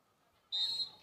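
A referee's whistle sounds once, sharp and moderately near, cutting through the quiet of a high school field hockey game between Oxford Hills and Skowhegan and held for about a third of a second.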